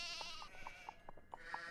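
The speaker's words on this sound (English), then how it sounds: "Is that a sheep or a show dog?" Sheep bleating in the video game Nancy Drew: The Haunting of Castle Malloy, a quick series of short, faint bleats repeating in a steady rhythm over a constant ambient background.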